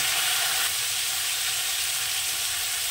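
Drumstick and prawn curry with turmeric sautés in a pan with a dense, steady sizzle that holds loud and even throughout, with no talking.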